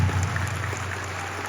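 An audience applauds at a political gathering honouring Niger's president Abdourahmane Tiani, a brief burst of dense, steady clapping over a low background hum.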